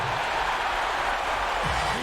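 A capacity arena crowd at the United Center in an NBA 2K game, a steady, loud roar of cheering and applause holding evenly from start to finish.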